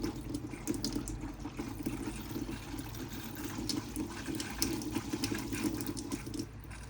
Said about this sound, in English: come over to the tap just here, and draw the water through on the hot side